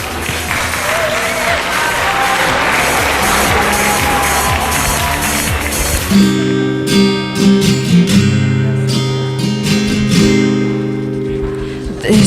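Loud, dense applause with cheering from an audience at the Mam Talent 2015 talent show in Giżycko fills the first half, then gives way to the opening of a band performance as the crowd noise fades underneath.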